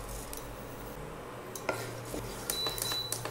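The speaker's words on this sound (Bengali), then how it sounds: "ফোড়নটা 15 সেকেন্ড মতো নেড়েচেড়ে দিয়ে দিচ্ছি" A spoon stirs tempering spices (split bay leaf, split dried red chilli and cumin) in mustard oil in a pan, with light metallic scrapes and clinks over a soft sizzle, close and without talk.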